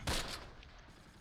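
Mortar rounds fire in the Close Combat: Last Stand Arnhem game at Veghel, 1944: two sharp, loud blasts open and close the burst, with a rumbling battlefield wash between them.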